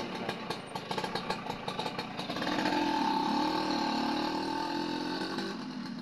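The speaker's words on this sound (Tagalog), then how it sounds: "Ayan, patapusin lang po ang motor." A motorcycle engine runs nearby, starting with a patter of sharp knocks before settling into a steady, droning hum that holds to the end.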